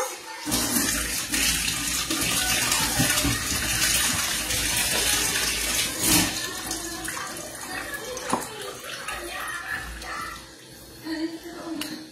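Tap water runs and splashes steadily while food ingredients for kilawin are rinsed, a loud continuous gushing that fills the whole stretch, with a few clatters and brief surges near the end.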